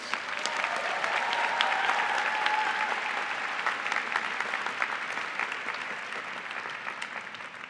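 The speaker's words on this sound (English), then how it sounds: "Please join me in a round of applause for all of our PhD graduates." Graduation-ceremony audience applauding PhD graduates at a Carnegie Mellon Heinz College diploma event, a broad, even roar of many hands clapping that stays steady across the whole stretch, with a faint voice underneath early on.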